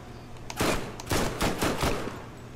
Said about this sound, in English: You are not matched for my new SMG that I so much very like.